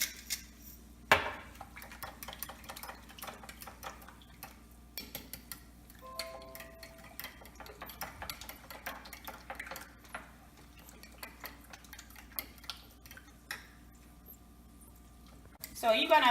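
A whisk or fork beating eggs in a bowl for a tuna omelette, giving a steady run of quick, light clinks and taps against the dish, with a louder knock near the start and end and a voice talking at times.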